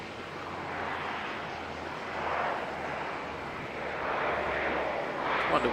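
A fixed-wing airliner races down the runway at Auckland Airport in foggy conditions, a steady, fairly loud engine roar that swells slightly and holds for the whole stretch with some wind noise, no talking.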